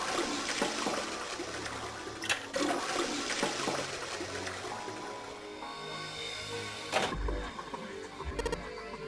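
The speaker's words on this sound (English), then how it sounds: "I heard a loud flushing noise" A toilet flushing in the game Nine Hours, Nine Persons, Nine Doors, a long rushing, gurgling swirl of water that keeps going for several seconds with a few sharp knocks near the end.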